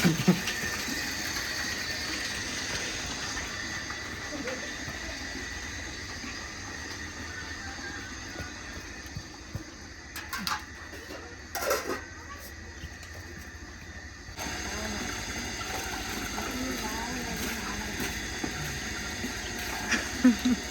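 A household electric water pump motor runs with a steady mechanical whir and ratcheting rattle, dipping briefly mid-way before resuming, with occasional faint voices.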